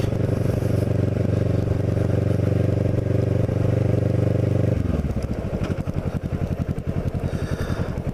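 A close Kawasaki Ninja motorcycle engine drones steadily at high revs while riding, then drops into a lower, choppy, pulsing rumble as it slows, with no talking.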